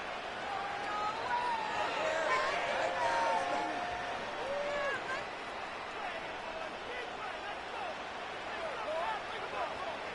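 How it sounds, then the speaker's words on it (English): A stadium crowd roars steadily at an NFL game between the Steelers and the Chiefs, a dense, loud wash of cheering and chatter that stays heavy throughout before a third-and-long play. "The crowd cranking it up another notch before 3rd and long"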